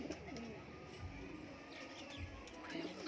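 Golden pigeons with pearl-spotted plumage coo softly in low, rolling phrases against faint background noise.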